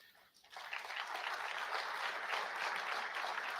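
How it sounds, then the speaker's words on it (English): A small audience gives polite, courtesy applause that starts abruptly and then holds steady as a moderate, even patter of clapping. "Courtesy clap."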